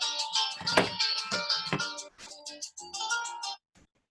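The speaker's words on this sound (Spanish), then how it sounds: "se me olvidó apagar el teléfono" Mobile phone ringtone going off during a court preparatory hearing, a bright electronic melody playing loudly and close for several seconds before cutting off abruptly.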